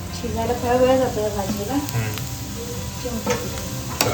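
Chopped kantoli vegetable sizzles and crackles in a hot oil tempering close by, while a person speaks briefly over the frying.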